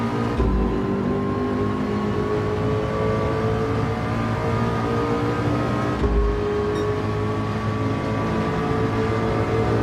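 McLaren race car in Gran Turismo 7, engine holding a loud, steady high-revving drone with layered harmonics, briefly dipping as it shifts gear, then pulling on again.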